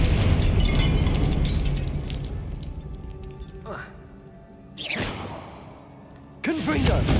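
Confringo fire spell blasts in Hogwarts Legacy, several sharp explosive bursts with whooshing tails that punch through a busy background of combat noise, with a player talking between them.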